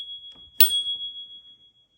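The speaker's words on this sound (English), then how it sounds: "we got a bell here" A single bright bell ding from a Phantom A10 electric scooter's bell, struck once and ringing out with a clear sustained tone that fades away.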